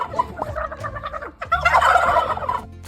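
Turkeys gobble back at a girl in a loud, close burst of rapid, warbling calls, following a gargly voice imitation of the birds.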